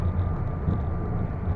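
A business jet rolls out after landing with speed brakes deployed, a steady low rumble and airflow roar heard from inside the cockpit at moderate level, without speech.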